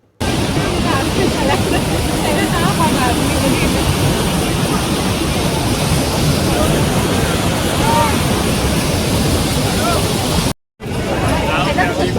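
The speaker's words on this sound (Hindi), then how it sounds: "इस पानी गिरने की आवाज़ इतनी तेज़ होती है ना कि दूर तक इसकी गड़गड़ाहट सुनाई देती है हमको" Dhuandhar waterfall at Bhedaghat crashes onto marble rocks in a loud, continuous roar of falling water, heard close and steady with wind buffeting the microphone, cut by a brief dropout near the end.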